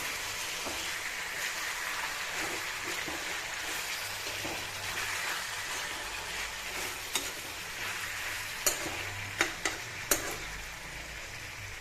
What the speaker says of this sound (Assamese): আলু সেইখিনি মই দি দিম এতিয়া আকৌ এবাৰ ধুনীয়াকৈ লৰাই দিম